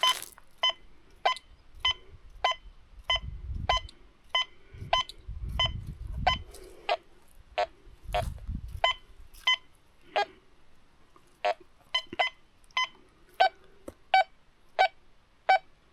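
A Quest X10 metal detector repeats a series of sharp electronic beeps at a steady rhythm during a depth test, detecting at about 21 centimetres, each beep short and clear, with faint low rumbling in between.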